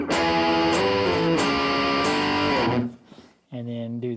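An electric guitar runs through an Electro-Harmonix fuzz pedal with its volume knob rolled down for a cleaner tone, playing sustained chords. A brief gap follows before another strummed chord rings out. No speech is heard.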